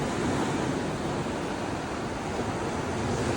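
Sea waves wash steadily onto a shore, a continuous broad surf roar with light wind noise over the microphone and no voices.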